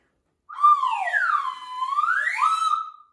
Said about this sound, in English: This is a slide whistle.